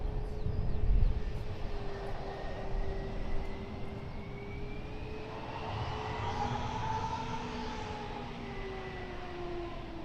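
A British Airways shuttle airliner taxis past at an airport, its engine drone steady and fairly near with a whining tone that rises slowly, alone without voices.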